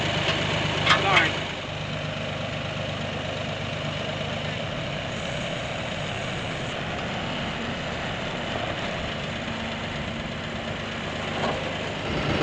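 A tractor engine idles steadily nearby as a chain holds a post during construction, a continuous low rumble under occasional talk.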